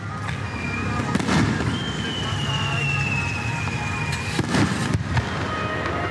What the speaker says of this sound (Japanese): やっぱり花火は最高ですね